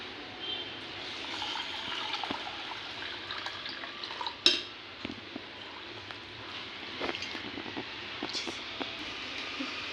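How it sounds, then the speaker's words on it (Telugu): Water poured over a glass of soaking chana dal gives a soft, steady splash and trickle that runs throughout, close and fairly quiet, with one brief clatter midway and no talking. "వాటికి తగినంత వాటర్ వేసేసుకోవాలి."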